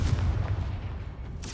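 Confringo, an explosive fire spell from the Hogwarts Legacy video game, sounds as a deep, rumbling boom that fills the short moment, ending with a bright, crackling burst.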